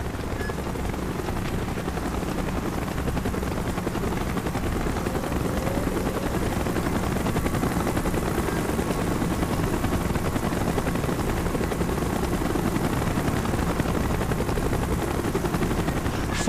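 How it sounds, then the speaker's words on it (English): A Call of Duty Black Ops helicopter gives off a loud, steady rotor drone that fills the whole stretch without letup, with possible faint gunfire mixed underneath. "Chopper's inbound."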